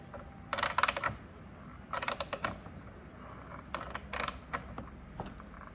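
A ratchet wrench snugs down bolts while an electric fan kit is assembled on a Fox Body Fairmont, giving three close bursts of quick clicking separated by quiet pauses, with no talking.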